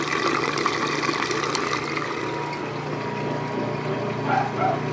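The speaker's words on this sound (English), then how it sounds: "And the neutral drain into the standpipe." Water from a Whirlpool Direct Drive washing machine drains into a standpipe with a steady broadband rushing and gurgling that stays at an even level, with a faint dog bark near the end.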